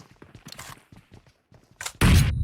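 A bomb thrown in an online shooter video game goes off in a sudden loud, booming blast at the end, after a stretch of soft footsteps and clicks.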